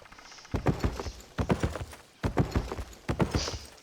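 Ox mount footsteps in the video game Albion Online, heard as clear, close clip-clop hoof falls in a steady walking rhythm, grouped in short bursts with brief pauses between them.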